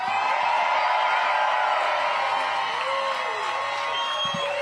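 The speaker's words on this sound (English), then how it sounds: "We got a lot of people just kind of golf clapping." Crowd at a Bassmaster Elite Series fishing tournament weigh-in on the Mississippi River cheering, whooping and clapping steadily throughout, a dense continuous roar with scattered shouts.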